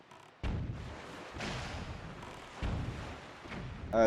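Cannon fire aimed at the player in Zelda: The Wind Waker, several heavy booming blasts spaced a second or so apart, loud and close, with rumbling tails and no talking.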